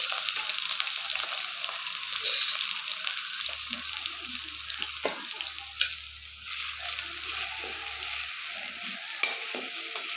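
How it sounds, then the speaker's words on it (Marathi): Potatoes and green chilies frying in a little oil in a kadhai while being stirred, a constant bright sizzle with occasional scraping and a faint low hum beneath. "मऊ होईपर्यंत फिरवून घ्यायचं थोडंसं तेलामध्ये"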